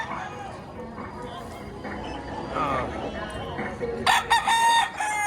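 A bull stag rooster at a poultry market in Padre Garcia, Batangas crows loudly and nearby near the end, after background murmur and faint clucking with voices talking throughout.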